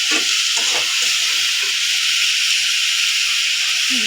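A pan of food fries after its water has cooked off, giving a close, even sizzle and hiss with a few faint scrapes of stirring near the start and end.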